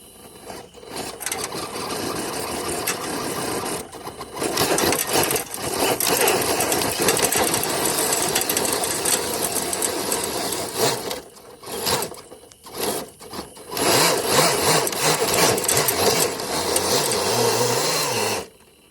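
A homemade RC pulling truck drags a dead sled loaded with four bricks, its small electric motor whining loudly and steadily with several abrupt stops and restarts, mechanical rattling throughout, no speech.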